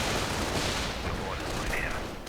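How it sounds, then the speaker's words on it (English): Dense battlefield gunfire crackles continuously in a 2v2 strategy war game, with sniper rifle shots mixed into steady fusillade and distant booms, loud and unbroken throughout. "Sniper opening up."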